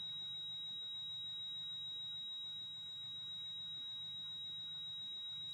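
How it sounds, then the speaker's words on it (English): A fire alarm panel buzzer emits a steady, thin, continuous tone throughout, faint over a low background hum, with no voices. "So let's mute the buzzer here."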